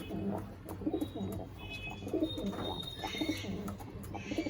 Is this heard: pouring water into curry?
no